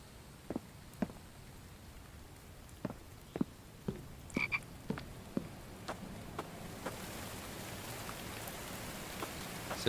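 Frogs croak in the survival game The Infected, scattered single croaks at irregular intervals over soft steady rain, moderately close and fairly quiet, with no talking.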